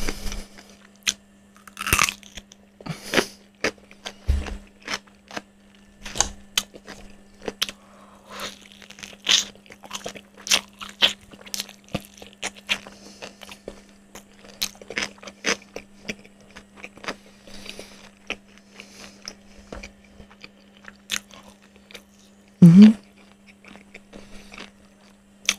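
Crispy fried chicken with a crunchy crust chewed with gusto close to the microphone, sharp crackling bites and wet chewing repeating over a low steady hum, with one louder crunch near the end.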